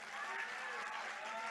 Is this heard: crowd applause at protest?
yes